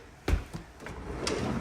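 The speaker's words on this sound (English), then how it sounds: "Drawers, we are going to do a quick check." A drawer in a newly rented unit slides open and shut a few times during a move-in check, giving short, fairly quiet knocks and scrapes close by in a hushed room.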